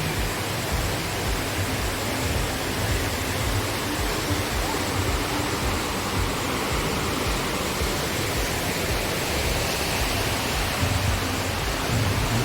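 A waterfall in Nakhon Nayok, Thailand, rushes in a dense, unbroken roar of flowing water, loud and close throughout, with no voices.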